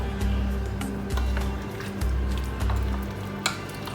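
A tajine mixture seasoned with sea salt and pepper is stirred in a pot, giving steady scraping and soft sizzling in rhythmic strokes, close up and moderately loud, with no talking.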